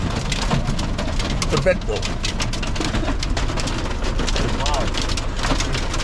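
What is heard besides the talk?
hail falling outdoors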